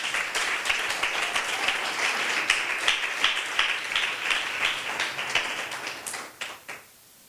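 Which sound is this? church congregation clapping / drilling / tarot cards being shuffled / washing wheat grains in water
church congregation clapping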